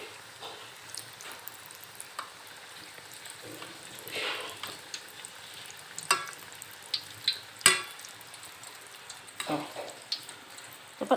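Flour-coated chicken pieces, destined for a Korean-style honey sauce, sizzle in hot oil while being stirred, with a steady crackle broken by sharper clattering stirs and some talk in the background.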